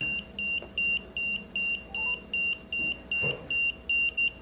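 An electromagnetic field meter held near a phone during a call beeps in a steady, rapid pulse of about two tones per second, loud and close over a faint background hum.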